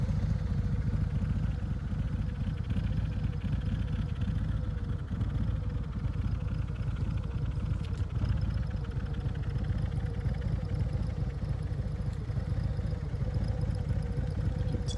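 Harley-Davidson Road Glide motorcycle idling through twin exhausts, one on each side, with adjustable exhaust volume; a steady, deep, continuous engine rumble runs alone and evenly throughout.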